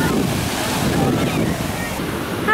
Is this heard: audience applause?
no